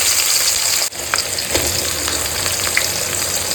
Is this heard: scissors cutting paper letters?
no